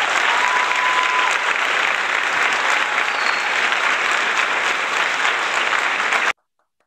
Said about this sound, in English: Wow, what a roaring crowd this is.